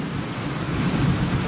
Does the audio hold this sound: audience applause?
no